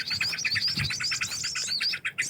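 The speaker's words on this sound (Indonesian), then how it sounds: "Oke, ada burung." Birds outdoors chirp in a rapid, continuous series of high tweets, fairly close and clear over a soft background hum, with no voices.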